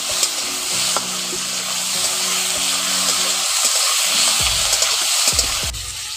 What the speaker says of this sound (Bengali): এখন টমেটোগুলো দিয়ে ফোড়নের সঙ্গে একটু ভালো করে ভেজে নিচ্ছি